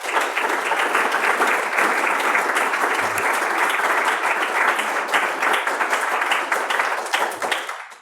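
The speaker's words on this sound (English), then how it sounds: "So a round of applause for Mark," Loud, sustained applause from an audience at a talk on money, dense clapping close by that holds steady and tapers off at the end.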